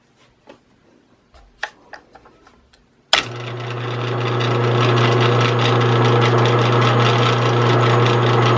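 A few light taps and clicks, then a power drill starts abruptly and runs loud and close, drilling oil ring drain holes in a metal piston from a Devair 447 engine, grinding steadily without stopping.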